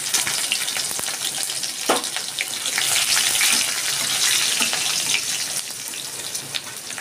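Green and ripe chillies, a torn bay leaf, panch phoron and crushed garlic fry in hot oil, giving a loud, steady sizzle and crackle with scattered pops that run unbroken throughout.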